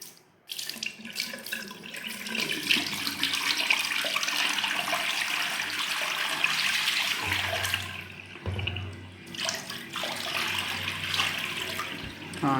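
Water drains steadily out of a 4-foot home aquarium kept for molly fish, a continuous splashing, trickling flow that holds loud and even for several seconds before easing and returning.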